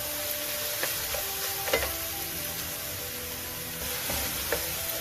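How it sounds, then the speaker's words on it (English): Garlic fries lightly in a pan for Hong Kong style steamed daikon cake, a soft steady sizzle with occasional faint stirring clicks, with no voices. "okay, garlic lightly fry"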